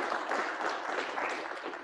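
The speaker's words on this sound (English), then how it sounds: "let's give Daza a round of applause for enabling this idea" An audience at an MIT Computational Law Report launch event applauds, a soft, even patter of clapping that stays fairly faint and distant through the brief stretch.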